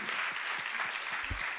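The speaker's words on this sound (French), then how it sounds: "Jean-Luc Martin, on peut l'applaudir bien fort." Audience applause at a festival talk greeting the festival president, a steady wash of many hands clapping throughout, moderately distant in a hall.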